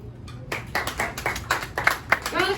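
Comedy club audience clapping in scattered bursts, uneven and moderately close, with individual claps starting after a brief quiet moment and a voice briefly audible among them.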